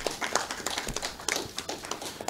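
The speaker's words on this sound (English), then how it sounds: "let's have a little better round of applause for Ms." Quiet scattered applause from a modest audience at a strategic plan launch event, a few hands clapping in uneven rhythm for a couple of seconds, somewhat distant and with no talk.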